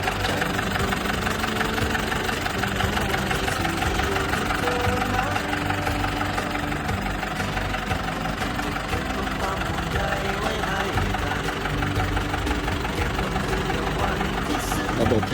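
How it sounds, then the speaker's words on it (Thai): A John Deere 2130 75-horsepower tractor engine idles steadily at close range, a continuous loud, rough diesel rumble with a knocking rhythm and no change in pace. "พามาชมแท็กเตอร์นะครับ มารีวิว เครื่องยนต์2130 กันนะครับ"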